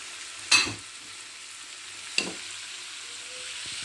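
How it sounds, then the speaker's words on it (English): Rice added to a hot pan for Nigerian fried rice: two sharp scraping clatters of the spatula stirring, each followed by a sizzling fry that settles into a quieter steady hiss. "Now I have to add rice to it."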